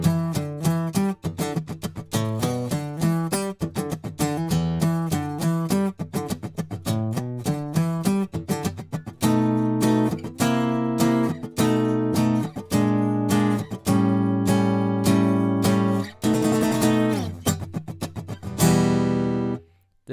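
A funk riff on guitar, with rapid, choppy single-note lines. The phrases repeat steadily, close and clear, for about twenty seconds with no talking.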